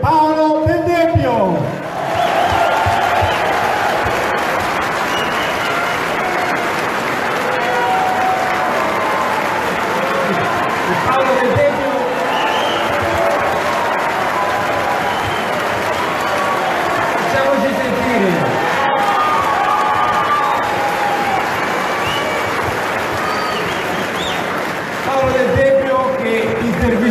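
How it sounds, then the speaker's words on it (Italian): Crowd at a political rally in Scandicci, Italy, applauding and cheering as a television journalist is welcomed for an interview, a loud, dense, sustained roar of clapping and shouts, with brief voices rising through it. "Un grande applauso per Paolo Del Debbio."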